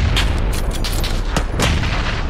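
Gunfire in the PUBG video game: a series of sharp shots crack over a constant low rumble, irregularly spaced, some close and loud, others fainter.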